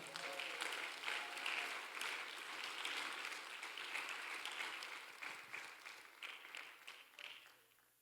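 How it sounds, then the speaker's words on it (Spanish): A church congregation breaks into applause during a sermon, a soft, fairly distant patter of many hands that holds steady and then thins out and fades near the end. "Den un aplauso a Dios, hermano."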